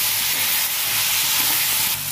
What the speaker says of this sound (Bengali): পেঁয়াজ কাঁচা লঙ্কা টমেটো ভালো করে ভেজে নেবো